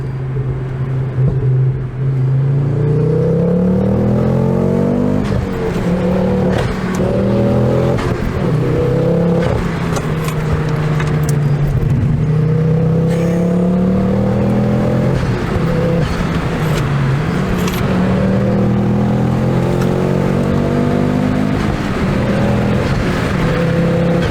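A Ford Focus RS engine revs hard and climbs through the gears, loud and close, with rising pitch sweeps and brief dips at each shift.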